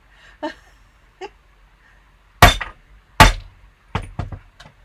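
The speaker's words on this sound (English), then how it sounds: "I want to give it just a really hard hammer" Hard hammer strikes on metal jewelry being made into a pendant or earrings come as a few sharp, ringing blows, two of them loudest, then softer quick taps, with faint clinks between and no speech.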